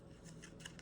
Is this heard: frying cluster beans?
no